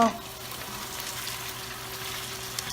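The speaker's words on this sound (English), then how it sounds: "we simmer the meat until a little bit of crisp on either side" Meat frying with browned onions in a pot for Afghan Uzbek palou, giving a steady, moderate sizzle with a faint low hum underneath and a light clink near the end.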